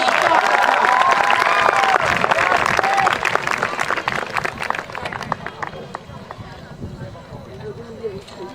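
Loud applause from a crowd at a school sports day, dense and steady at first, then gradually thinning out and fading to scattered claps.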